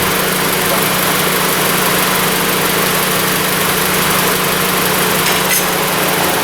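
A Honda Civic engine idles steadily and close by, with an even, buzzing hum throughout and a brief, faint mechanical tick near the end as the weak A/C compressor clutch is nudged.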